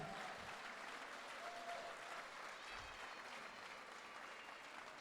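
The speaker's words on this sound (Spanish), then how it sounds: "Alguien déle una ofrenda de palmas a Cristo." Congregation applause fills a Spanish-language church service: a sustained, fairly distant wash of clapping from many people that holds steady throughout, with only faint voices beneath it.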